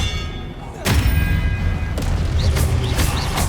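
Expelliarmus disarming spell in Hogwarts Legacy, heavy booming impacts and whooshing magical bursts in a continuous, loud combat mix, with sharp strikes repeating every second or so.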